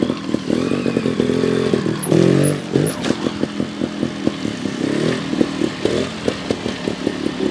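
GasGas TXT 300 trials motorcycle working a backyard obstacle course, its engine close by, blipping and revving in short bursts with a steady throb between them and occasional clatter from the bike.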